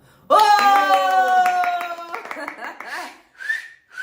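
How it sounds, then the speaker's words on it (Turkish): A short burst of rhythmic hand clapping, close and fairly loud, sounds against a sustained tonal sound. It fades out after about two seconds and is followed by brief voices. "Bir alkış gelsin bakalım"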